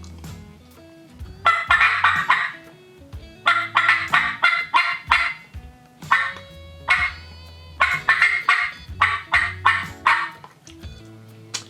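Turkey cuts blown on a diaphragm mouth call, a voice imitating a wild turkey: several bursts of loud, rapid, sharp high yelps in quick runs with brief pauses between, close and alone, no talk.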